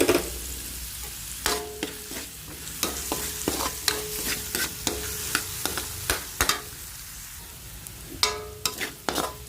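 Garlic and chopped stems sautéing in a pan for ginisang sotanghon, with a continuous sizzle and frequent sharp clacks of a utensil stirring against the pan, close and steady, without talk.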